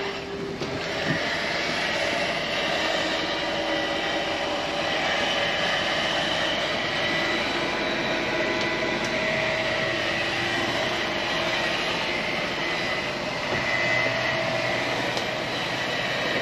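A Lippert motor drives a Schwintek slide-out on a 2021 Thor RV as it extends, a continuous steady mechanical drone with a high whine that holds evenly for about sixteen seconds, with no talk.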